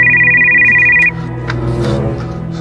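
A phone ringtone trills steadily for about a second, then cuts off as the call is picked up, leaving a quieter room with faint rustling and low background sound.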